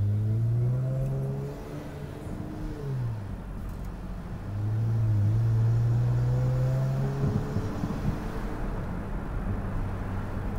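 Car exhaust with the muffler deleted, a steady mid-low engine drone that rises and falls as the engine revs, close and fairly loud, with no talking.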